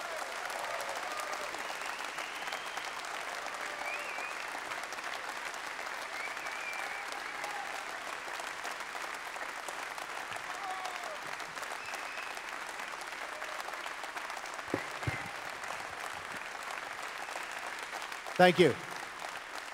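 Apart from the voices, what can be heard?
audience applause welcoming someone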